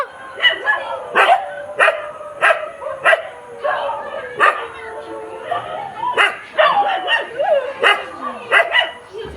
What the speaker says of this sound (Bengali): কুকুরগুলো ডাকছে কেন কি জানি বুঝতে পারছি না